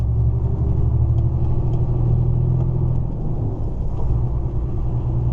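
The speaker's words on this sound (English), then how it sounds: "Massive drive up to the ferry now," Car interior on the drive up to a ferry in Belfast on a Saturday night, with a steady low engine and road rumble throughout, continuous and fairly loud, no talking.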